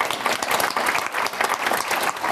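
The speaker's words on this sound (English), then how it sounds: "We've started the applauding," Sustained, dense applause from a conference audience at an International Women's Day 2024 event, many hands clapping together in a continuous, fairly close roar with no pause.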